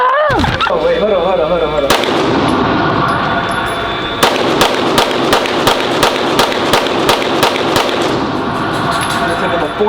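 Gunshots crack at a gun range in rapid, irregular bursts of sharp reports, some overlapping and echoing, loud and close, with voices talking in between.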